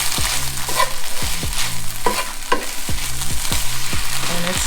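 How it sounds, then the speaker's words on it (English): Oong choy (water spinach) stir-frying in a hot pan with a splash of soy sauce, a steady close sizzle broken by repeated scraping stirs of a spatula at a regular rhythm, no voices. "And just stir it up."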